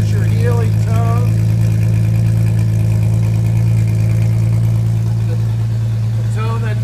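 An Austin Healey BT7 3000 SCCA rally car engine idles steadily at about 1100 RPM, a loud, deep, even drone that continues without a break, with a voice briefly over it.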